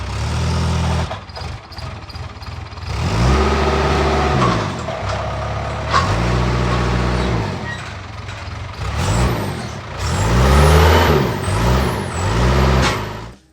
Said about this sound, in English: Driving that forklift